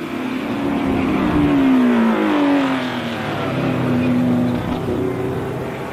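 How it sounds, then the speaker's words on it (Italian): A 1971 Targa Florio race car, a Porsche 908 or Alfa Romeo Tipo 33, screams past at speed on the Sicilian road circuit, its loud engine note sweeping down in pitch as it passes close by and continues revving away, with no talk. "Ecco la numero 4 di Rodriguez."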